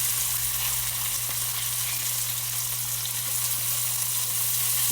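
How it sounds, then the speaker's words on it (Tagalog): Tomatoes sizzle and fry steadily in a hot pan for a Filipino pork and vegetable dish, a continuous close crackle with a low steady hum underneath and no talking. "Sigurogin natin ng ganyan ang kamatis natin guys para masarap."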